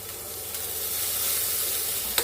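Curry leaves, chopped coriander and jaggery frying in oil for bottle gourd pulusu, giving a continuous loud sizzle and hiss with a brief stirring knock near the end.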